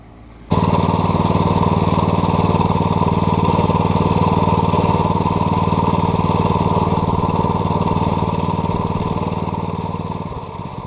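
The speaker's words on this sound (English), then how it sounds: "Well, now that we've seen how this Trucut works" A Trucut 27-inch reel mower's engine starts after a brief quiet moment and runs at a steady, loud idle for about ten seconds, close by with no talking.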